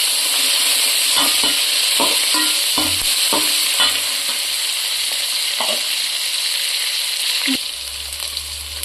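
Onions frying in mutton fat with mint for mutton biryani, a loud continuous sizzle broken by repeated scraping stir strokes from a spatula in the pan, with no talking.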